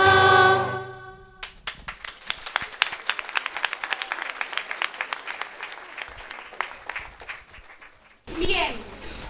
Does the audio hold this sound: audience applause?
yes